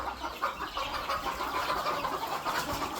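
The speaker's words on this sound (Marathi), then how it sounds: "आता बघा काय कोंबड्या अंड्याला बसल्या असलेल्या दाखवतो." Free-range hens sitting on eggs give soft, intermittent clucks under a steady background hum, with no talk.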